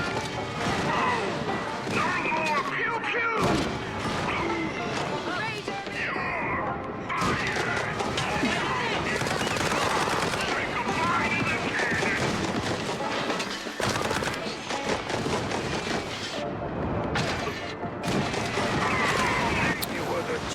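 Rapid turret gunfire and crashing impacts from the Mouse P.I. For Hire video game, dense and loud throughout with brief gaps, mixed with game effects and a person talking over it.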